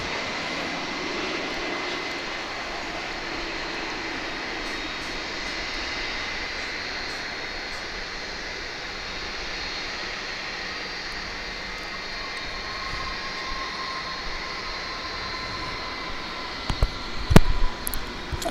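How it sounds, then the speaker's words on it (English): A Boeing Dreamliner airliner lands at DFW International Airport after a long trans-Pacific flight, its engines a steady broadband roar heard from a distance, with a louder burst near the end as it touches down. "It's a Dreamliner, making a very long journey across the Pacific."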